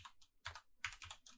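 Computer keyboard typing code in RStudio, a quick burst of separate key clicks in uneven clusters, close and fairly quiet with no voices.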